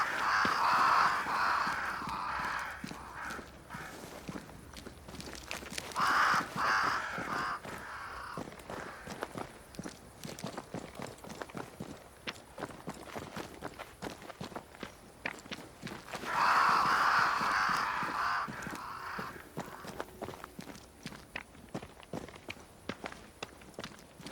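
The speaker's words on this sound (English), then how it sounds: "crows. They flock to that great tree up there." Crows caw near a great tree in Banishers: Ghosts of New Eden, with harsh calls in three separate bursts over a steady patter of footsteps walking on the ground.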